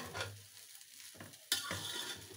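Vegetable fried rice with soy sauce is stirred in a hot pan on the stove, giving close scraping and stirring strokes over a light sizzle, with one sharper clatter midway.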